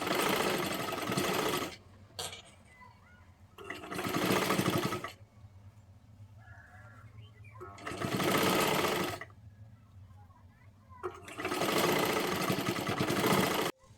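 A sewing machine stitches a kurti sleeve onto a finished top, whirring loudly in four sustained runs separated by quieter pauses where fabric is adjusted.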